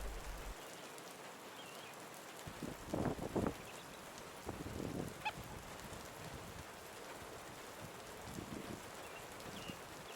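Steady rain hisses over everything beside a canal, with a few goose-like honks breaking through now and then in the distance.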